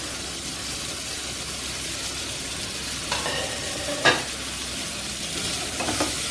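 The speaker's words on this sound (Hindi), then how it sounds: "ग्रीन को भी थोड़ा सा भून लेते हैं" Sliced onion, tomato and capsicum stir-fry in a kadhai for kadhai paneer. A steady, fairly loud sizzle runs throughout, with a few sharper scrapes and clinks of the spoon near the end.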